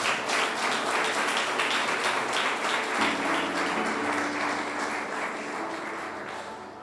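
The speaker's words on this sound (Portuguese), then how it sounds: "Aplaude." Church congregation applause at a 15th-anniversary service, a sustained, full roar of clapping that stays loud and steady before slowly fading toward the end.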